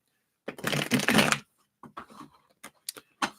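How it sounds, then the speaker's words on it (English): A burst of tarot cards riffling together in a quick shuffle, followed by several softer taps and slides of cards being squared up. "let's give these a shuffle"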